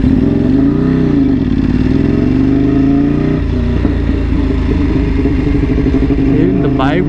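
A motorcycle rides along loudly and close, its engine droning and shifting pitch as it changes speed, with a rider's voice speaking over the motor.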